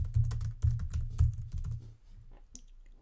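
Close computer keyboard typing as a name is entered, with a quick run of thumping key presses for about two seconds, then a few sparse taps and a final sharp click.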